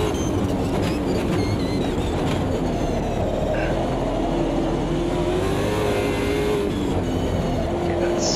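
BMW M3 GT2 race car in the Automobilista 2 sim racing game, its engine droning loud and steady with rising and falling pitch as it drives, accompanied by continuous road rumble, with no talking.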